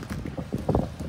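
A worn cutless bearing on a boat propeller shaft knocks with an irregular series of dull, close thuds and clunks, loud and mechanical over a low rumble.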